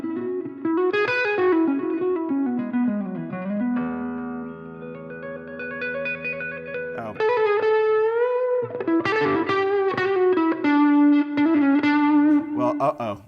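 An electric guitar plays melodic lines through a heavy effects pedal into a Supro '64 Super amp, distorted with swirling modulation, including a long sustained chord and bending notes.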